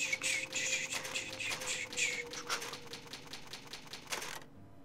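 A typewriter saving the game in Resident Evil Rebirth, a fast run of crisp key clacks followed by slower single strikes, ending abruptly in silence.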